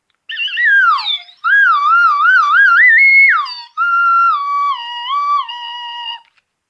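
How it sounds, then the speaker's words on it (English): A slide whistle played alone, swooping up and down in wavy glides, then holding steadier pitches with small steps, in three separate phrases over several seconds. "let's play the slide whistle just for fun"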